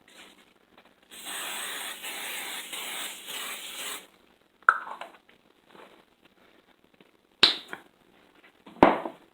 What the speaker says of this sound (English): I am going to give it a quick spray with some butter spray